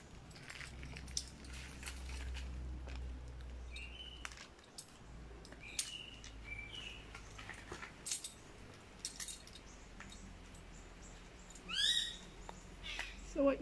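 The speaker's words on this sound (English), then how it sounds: "that is a black parrot's alarm call, because a bulbul, another native species, has just come and disturbed her" A black parrot gives short, repeated alarm calls in the palm forest of Vallée de Mai, Seychelles, disturbed by a bulbul. The calls come in scattered bursts over a low rumble and faint forest background.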